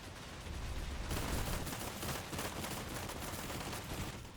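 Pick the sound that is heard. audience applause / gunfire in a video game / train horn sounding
gunfire in a video game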